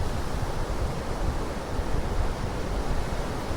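Steady surf washes continuously, a dense roar of waves breaking on a beach in Tampico, Mexico, mixed with wind noise.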